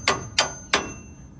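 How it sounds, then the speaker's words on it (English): Three sharp metallic hammer strikes in quick succession against Ford F150 suspension knuckles during a leveling install, close and loud with a brief ring after each blow. "Now we're gonna take a hammer and pop these through."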